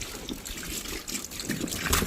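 Water runs and trickles at low volume as a child's bath fills, a soft steady splashing flow with small drips throughout.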